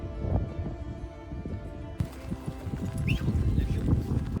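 Horses clop along on a riding trek in Mongolia, with scattered hoof knocks and rustling close by. The background shifts to a brighter outdoor wash partway through.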